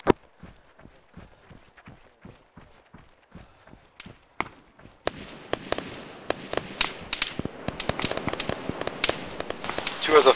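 Gunfire in the military shooter game Arma 3: a string of sharp, evenly spaced cracks that grow into denser, louder bursts of overlapping shots.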